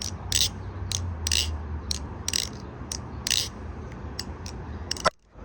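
Loose ballast inside an LDY Kite AL stunt kite rattles in repeated sharp bursts, a clattering, ratchet-like series of shakes over a low rumble of wind, ending in a sudden knock.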